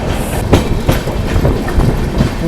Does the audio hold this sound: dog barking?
no